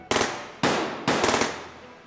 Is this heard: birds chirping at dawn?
no